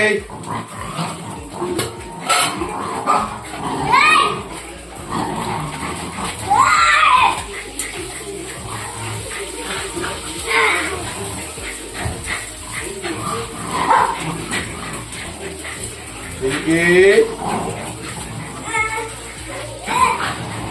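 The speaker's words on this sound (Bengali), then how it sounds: "তিনটে কুকুর।" Dogs bark and whimper on and off, mixed with children's voices and chatter nearby.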